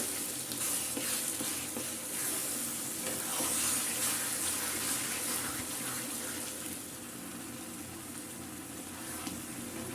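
An olive pickle cooks with sugar over medium heat, its sugary liquid giving a soft, continuous bubbling sizzle, fairly quiet and steady, with no voices.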